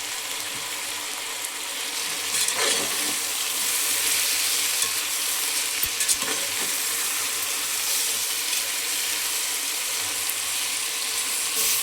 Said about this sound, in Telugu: కట్ చేసుకున్నటువంటి టమాటోస్ని ఇందులో వేసుకొని కలుపుకొని ఫ్రై చేసుకోవాలి